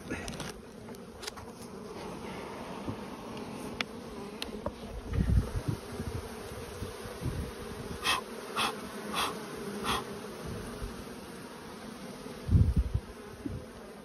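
Bees buzz around an opened beehive with two honey boxes, a busy, close hum of many insects, with individual bees droning past the microphone several times.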